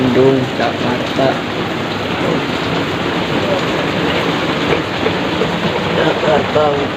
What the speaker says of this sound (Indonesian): Jakarta hujan.